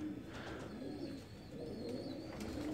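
A breeder pair of pigeons coos close by, repeated low throaty calls in gentle rhythmic phrases over faint background hiss and occasional higher chirps, with no talking.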